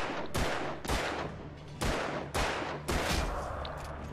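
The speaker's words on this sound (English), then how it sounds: "Dude, shoot them!" Gunfire in the video game Alan Wake, about six loud booming shots fired at uneven intervals, each one followed by a brief decaying echo.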